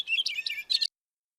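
Short bursts of high songbird chirps and tweets, recorded for bird song identification, come in two quick close phrases and then stop, leaving silence.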